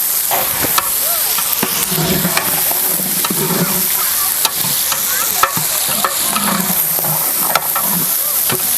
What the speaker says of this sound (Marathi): आलं लसूण बारीक करून घेतलेलं ते घालायचं ते सुद्धा आपल्याला चांगलं असं त्याबरोबर परतून घ्यायचं